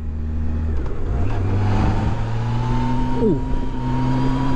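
A Yamaha FJR1300 motorcycle accelerates smoothly through third gear, its engine note rising in a steady pull over wind roar, with one short exclamation from the rider.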